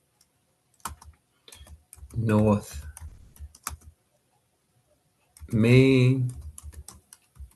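Keys clack on a computer keyboard as an address is typed, bursts of quick tapping between short stretches of someone speaking nearby.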